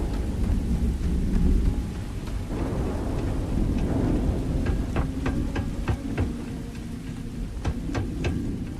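Rain and rolling thunder in the game Starfield, a steady wash of rainfall with deep rumbles underneath and scattered sharp drips and taps, continuous and fairly close.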